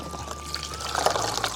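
Water poured into a cooking pot along with rice, a short and fairly close splashing pour over a faint background hum, with no one talking.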